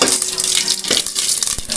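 Steady crackling sizzle of mustard seeds frying in hot oil, with scattered pops and a faint stir near the end, continuous and close.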